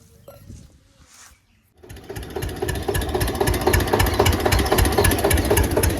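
A tractor engine chugs loudly and steadily after a brief quieter start with faint voices, its rhythmic diesel knocking filling the rest.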